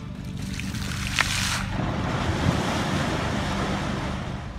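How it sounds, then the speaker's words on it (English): River water churning and splashing after a bucket of water is thrown in, heard as a loud continuous rushing surge with a brief sharp splash near the start, no voices. "Whenever the man threw a bucket of water into the river, it exploded like mad."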